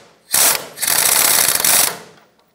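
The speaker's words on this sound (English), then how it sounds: "Now let's tighten both of them up. Tighten up the top nut." Power tool tightening the top nut on front lower control arm bushings of a 1996-2002 Toyota 4Runner: two loud close whirring bursts, a short one then a longer sustained run, trailing off to quiet.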